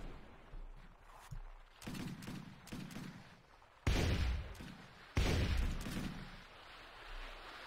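Volleys of musket-style gunfire from massed gunners in the battle game Warsword Conquest, with two heavy, loud salvos booming out over a rumbling battlefield din and scattered distant shots.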